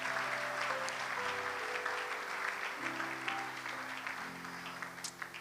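Church congregation clapping together in acclaim of the Lord, sustained steady applause with a music-like tonal hum underneath, fading slightly toward the end.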